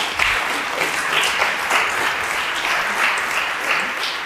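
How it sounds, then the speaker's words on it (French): An audience at the EHU Euskampus Bordeaux Eguna 2024 pitch event claps steadily, a dense, even wash of hands sustained without pause, fairly close and loud. "je voudrais que vous applaudissiez parce qu'ils font un travail remarquable dans l'ombre"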